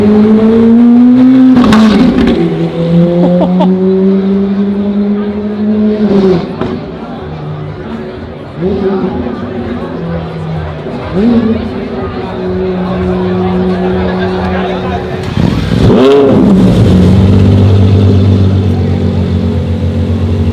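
A Lamborghini SVJ supercar roars through its startup and sharp revs on a town street, loud repeated engine bursts rising and falling, with people chattering nearby.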